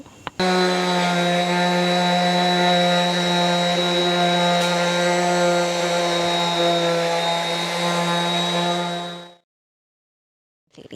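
A power sanding machine works over a wooden door to distress it, giving a loud, steady motor whine with strong tonal harmonics that runs unbroken for about nine seconds before cutting off into silence.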